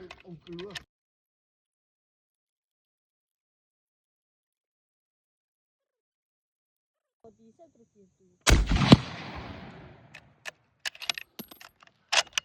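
.303 rifle firing 1970 Mk7 cordite ammunition: one loud, sharp shot rings out after a long near-silence, with a decaying boom. Scattered clicks and handling noises follow.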